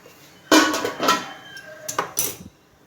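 Lid lifted off an idli steamer pot holding steamed ragi semiya, a loud close metallic clank followed by a few more ringing knocks and scrapes of metal cookware.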